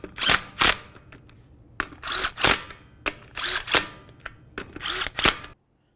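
A power tool snugs the five wheel lug nuts on a Dodge Journey in several short, loud whirring bursts separated by brief gaps, close by with no talking.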